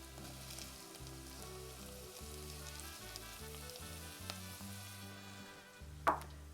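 Red pepper frying in a pan gives a soft, faint sizzle under a low repeating background hum, with a single sharp clink near the end and no talk.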